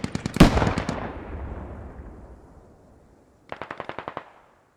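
Machine-gun fire from a BTR armored vehicle in a military video game: one loud, close burst that rolls away in a long echo, then a second, fainter rapid burst of about eight shots.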